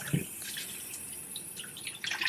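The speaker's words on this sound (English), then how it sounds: "a quick hand wash." Tap water running over hands during a quick wash in a home kitchen, a soft steady splash with light spattering that swells near the end.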